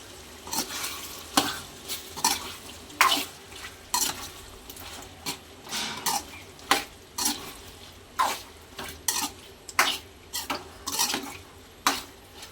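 Chicken fries with ginger garlic paste in a pan, with a spatula scraping and clattering against the metal in repeated irregular strokes over a soft steady sizzle, close and alone without talk.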